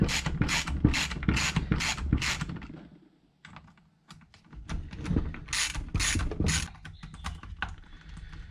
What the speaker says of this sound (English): Oh, heaps easy with a socket.